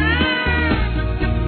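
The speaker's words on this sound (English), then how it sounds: "Little ginger cat, little ginger cat," A cat meows in one loud, drawn-out, wailing cry, close up and alone.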